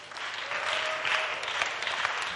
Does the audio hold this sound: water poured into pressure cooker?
no